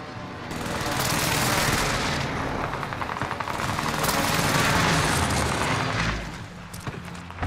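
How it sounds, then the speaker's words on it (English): Precision airstrike explosions and gunfire in Call of Duty: Modern Warfare, a dense rolling barrage of blasts and rapid shots that swells loudly for several seconds, then drops away toward the end. "Allied precision airstrike incoming."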